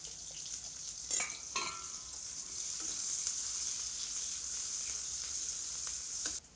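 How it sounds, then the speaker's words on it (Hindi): Chopped onion frying in hot mustard oil, a bright, steady sizzle with a few scraping stirs of a utensil against the pan and an abrupt stop at the end. "प्याज मेरा फ्राई हो चुका"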